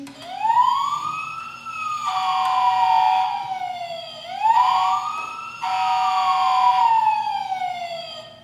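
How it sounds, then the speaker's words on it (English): A toy fire engine's siren wails, rising and falling in long cycles, loud and steady, with a brighter electronic tone layered in during the peaks. "Toy fire engines."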